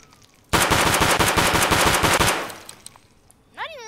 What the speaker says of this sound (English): Long range where you get to really see how bad the weapon jumps.